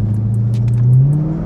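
A 350 hp Corvette engine revs and accelerates up close, a loud low growl whose pitch rises steadily with the throttle, with a faint clicking over it.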